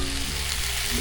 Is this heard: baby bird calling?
no